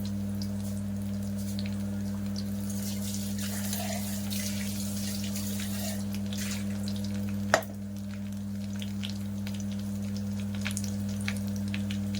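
Dried red chillies fry in oil in a pan with a low, steady sizzle over a constant hum, and a single sharp clack partway through.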